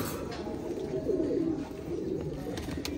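A female pigeon of a show pair coos in a low, continuous murmur close by, swelling slightly in the middle.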